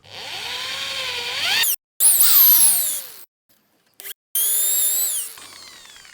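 A power drill with a small bit runs in short bursts, boring holes in wood for a homemade remote control toy truck, its loud whine rising and falling with brief stops between holes.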